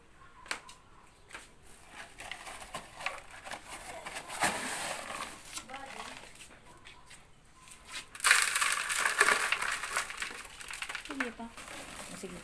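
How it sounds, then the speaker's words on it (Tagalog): Soil being put into a basket for a composting project, heard as soft crunching and crumpling rustles that come in uneven bursts and grow louder toward the end, with voices in the background. "Una, maglagay ng lupa sa basket."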